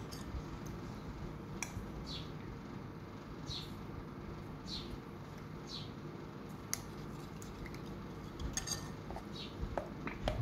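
Honey being stirred into a salad dressing in a bowl, with repeated light scraping and soft clinking of a utensil against the dish, close and fairly quiet over a steady low kitchen hum.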